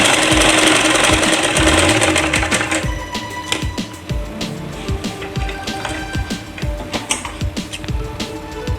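Electric sewing machine running steadily while stitching a salwar, a loud continuous mechanical whir with rapid needle clatter, briefly pausing and restarting in short bursts toward the end; no talking.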